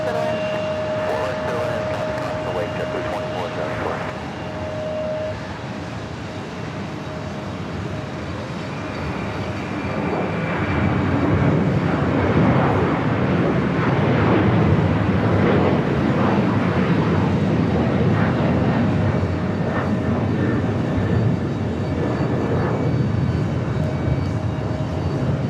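A jet airliner spools up and rolls for takeoff on runway 4 Left at JFK, a broad engine roar that swells midway and stays loud, heard from a distance with a voice talking over it.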